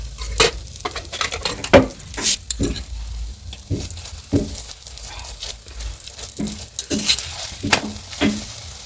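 A chapati fries in oil in a hot pan, a steady close sizzle broken by repeated scraping and patting sounds as the flatbread is spread and turned.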